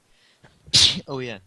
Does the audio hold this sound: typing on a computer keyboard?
no